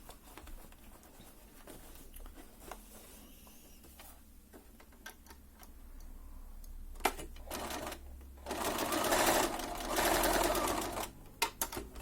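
A sewing machine topstitches a bracelet cuff in short bursts, with light mechanical ticking at first and then a louder, steady run of rapid stitching in the second half, close up and with no voices.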